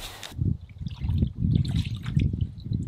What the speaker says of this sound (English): I'm going to get my water and fill it up.